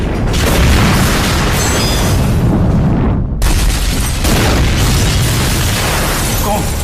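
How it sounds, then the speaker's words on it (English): Huge explosive boom of an El Al Boeing 747 cargo jet crashing into Amsterdam apartment blocks, a dense roaring blast filling the whole stretch with a brief dropout midway before the rumbling resumes, loud and close. "I heard a huge noise. It was as if a door slammed closed, like a bang."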